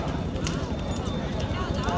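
Horses' hooves clip-clop amid a large outdoor horse race in Salem, a dense, continuous patter of hoofbeats mixed with crowd noise and voices throughout.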